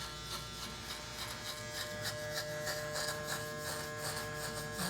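Electric hair clippers fitted with a number 1 guard cutting a bald fade, giving a steady close buzz with a faint pulsing as the blade passes through hair.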